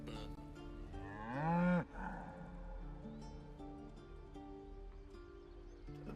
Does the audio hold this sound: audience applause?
no